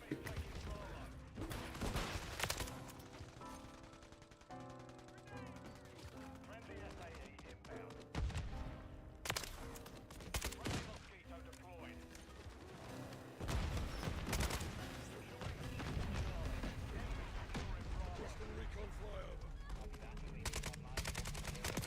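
AK rifle fire in a video game, with repeated bursts and single shots crackling amid busy combat noise, played fairly quietly while a voice talks over parts of it.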